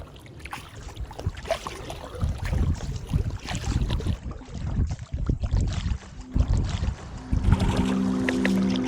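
A kayak paddles along a river in Austin, with irregular splashes and water swishes from the paddle strokes over light wind noise against the microphone.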